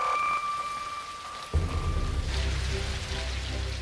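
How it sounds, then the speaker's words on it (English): Blood-red rain falls in Kerala, southern India, heard as a steady broadband hiss of rainfall that thickens into a heavier, louder downpour with low rumbling partway through. "Showers of bizarre red rain shocked the people of Kerala in southern India."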